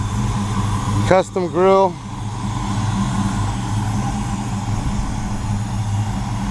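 A 1978 Chevrolet C10 short-bed pickup idles steadily with a low, even rumble close by, and someone briefly speaks over the engine.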